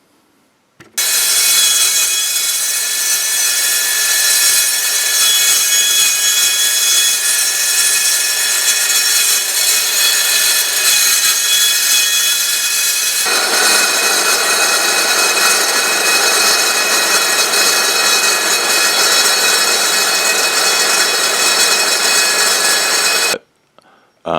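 A power saw cuts through steel for a Dragonslayer sword display stand, a loud, steady, high-pitched grinding whine that runs nonstop for over twenty seconds, with a slight shift in tone partway through the cut.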